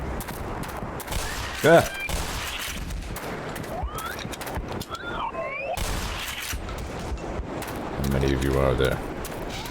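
Gunfire from a weapon in the Black Mesa video game, bursts of rapid shots and impacts mixed with game effects, under someone talking.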